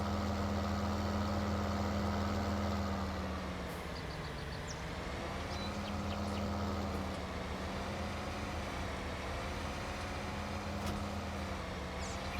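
A tractor engine idles in Farming Simulator 19, a steady low drone with a slight dip in pitch midway, held alone and even for the whole stretch.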